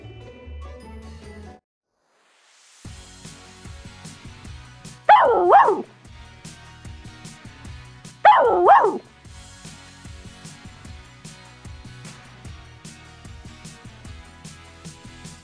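A cartoon puppy in a Barbie animation gives two short, loud yappy barks. Quieter tinkling and clinking fills the rest of the scene around them.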